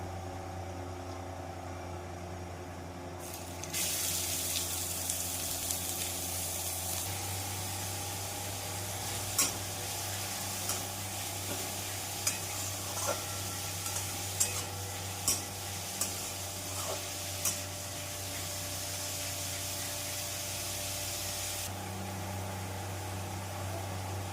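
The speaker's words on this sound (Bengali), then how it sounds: "তেজপাতাটা দেওয়ার সাথে সাথেই আমি পেঁয়াজ কুচিগুলো দিয়ে দেবো।" Chopped onions hit hot oil with a bay leaf in a pan for chana masala, a sudden loud sizzle that hisses steadily for many seconds, punctuated by sharp spatula scrapes and stirs, then drops back to a low kitchen hum.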